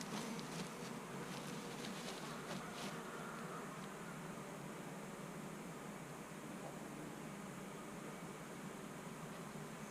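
Honey bees hum in a steady, dense drone during a hive inspection, close and continuous, with no talk over it.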